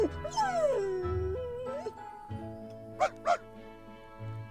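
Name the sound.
puppies barking in Reverse 1999 video game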